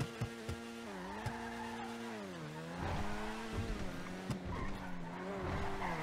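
The Ocelot Locust sports car in GTA Online revs with a high, rising and falling engine whine, shifting through gears, with brief tire squeals cutting in, loud and close.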